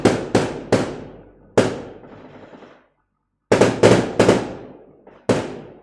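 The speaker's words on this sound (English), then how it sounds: "Wait for fireworks." Fireworks exploding outside at night, a loud string of sharp cracking bangs arriving in irregular bursts, each with a short trailing rumble and a brief silent gap midway.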